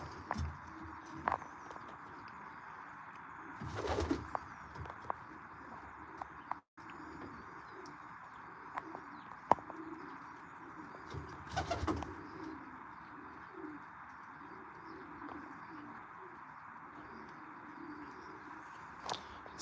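Racing pigeons in a loft coo softly and steadily over a faint background hum, with occasional louder flutters or bumps and a few light footsteps nearby.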